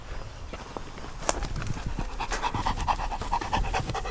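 A large dog pants rapidly and steadily up close, the quick breathy rhythm continuing throughout with a few faint footsteps or clicks in the background.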